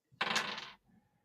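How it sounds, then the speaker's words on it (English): Percentile dice clatter across a tabletop in a single short, close rattle lasting about half a second, then fade into quiet room tone. "go ahead and roll me some percentile dice"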